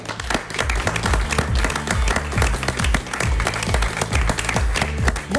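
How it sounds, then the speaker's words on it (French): Audience applause at an evening comedy show in Nîmes, dense and sustained clapping from a crowd that stays loud and even throughout. "Merci d'applaudir Freddy Cerda"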